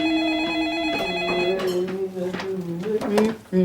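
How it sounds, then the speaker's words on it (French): A telephone bell rings in repeated bursts with a bright, sustained tone, close and loud in a domestic scene, with a voice briefly sounding over the end. "Tu peux-tu répondre au téléphone, s'il te plaît?"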